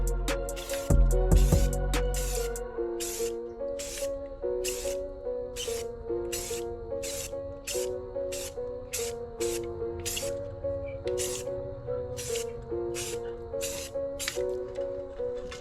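Rust-Oleum spray paint applied to the interior of a 10th-generation Ford F-150 truck, in repeated short hissing bursts with a steady rhythm, each spray close and distinct over a background of faint music.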